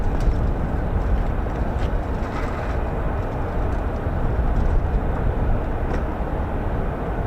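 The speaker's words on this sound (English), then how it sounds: "The sound you can hear in the background is indeed the Pratt & Whitney's F-135 PW100" A constant, broad Pratt & Whitney F135 fighter jet engine roar drones on steadily throughout at RAF Lakenheath, loud and unbroken, with no voices.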